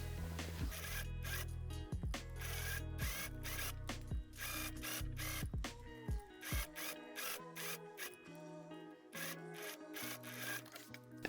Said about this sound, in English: now I'm gonna sew right here, right next to the piping